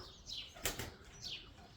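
A bird, likely a pigeon, bursts into flight on release at dawn, one sharp burst of wing flaps close by, with faint chirps before and after.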